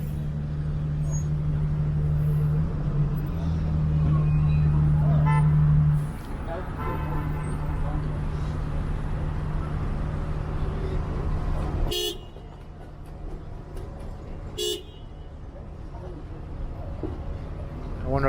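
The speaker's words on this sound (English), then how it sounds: "I wonder if these cars will be out of the way by the time the light turns green." Downtown street traffic in a financial district, with cars idling at a red light, a steady loud engine rumble, and a car horn tooting early on. The din drops after about twelve seconds to quieter road noise.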